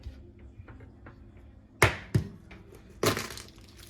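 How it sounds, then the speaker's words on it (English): A hard-boiled egg shell is cracked against a surface: faint light taps first, then three loud, sharp crunching cracks up close, the last one followed by a brief crackle. "Crack it, roll it, rack it, stack it."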